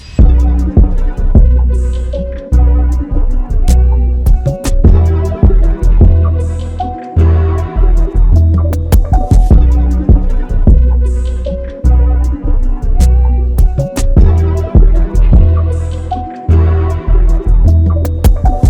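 Bouncy, textured hip-hop sample and beat built from a sound kit, loud and dense, with punchy kicks and sharp percussive hits looping over layered, wobbling melodic tones in a repeating groove, with no speech.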